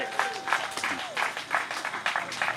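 An audience applauds at a 25th wedding anniversary celebration, producing steady rippling claps over a couple of seconds, with voices and chatter mixed in.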